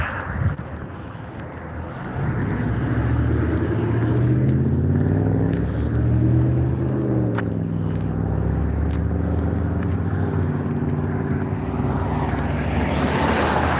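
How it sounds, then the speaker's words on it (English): A city bus passing on a street, its engine a loud, steady drone that swells as it goes by and holds on for several seconds, heard from the roadside with traffic noise around it. "There goes the bus"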